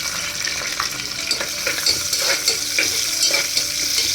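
Chopped onions sizzling in hot oil with whole spices in a pan for chicken soup, a steady frying hiss broken by repeated scraping stirs, close and alone without talk.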